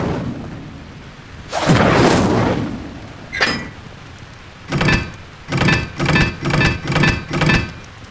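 An Incendio fire spell cast in Hogwarts Legacy, a loud whooshing burst followed by a short sharp hit and then a run of rhythmic crackling pulses, five or six in quick succession.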